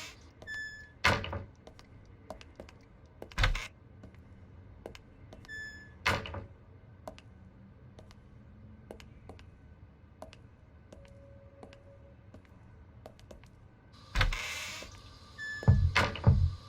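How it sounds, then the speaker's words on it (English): Knocking on a door in the horror game Unheard, a few sharp, well-spaced thumps over a quiet room background, with a brief louder cluster of hits near the end. "Who's that knocking?"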